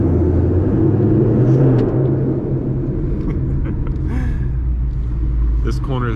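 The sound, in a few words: 2020 Ford Mustang GT engine rumbling in parking garage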